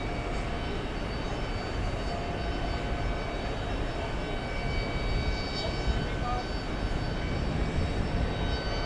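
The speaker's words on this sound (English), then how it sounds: "On the roll. Yeah. Take off," Delta heavy jet airliner on its takeoff roll at New York JFK, heard as a steady, broad engine roar that holds loud and even throughout, with faint voices underneath.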